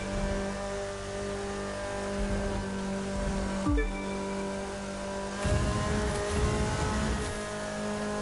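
A car engine in The Crew 2, a driving game, drones steadily in a high gear, its tone dipping briefly and then swelling louder as the car accelerates again, with no talk over it.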